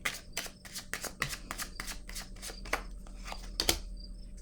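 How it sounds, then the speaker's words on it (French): Cards are shuffled and drawn from a tarot deck, in a quick run of about a dozen crisp, papery riffling snaps, close and fairly quiet, with no talking. "Je vais piger une autre carte ici par curiosité pour avoir d'autres détails"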